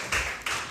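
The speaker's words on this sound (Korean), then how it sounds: "하나님께 영광의 박수 돌리겠습니다" Two sharp claps from a church congregation at a Friday prayer meeting, each a brief burst of hands striking together, fairly close and with no voices over them.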